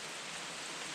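Heavy rain pours steadily on a hiking trail, a dense, even hiss of drops with no talk over it.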